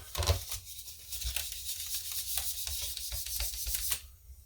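A cloth rubbing dry-erase marker off a hard surface to lift leftover permanent marker, a series of close, soft, scratchy wiping strokes in quick rhythm, alone without talk.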